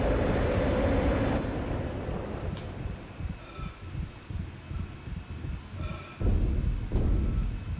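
Muffled gunshots in the vacuum of space in the horror game Dead Space, a series of dull, low thuds and heartbeat-like pulses under a deep rumbling ambience, with a few faint electronic tones.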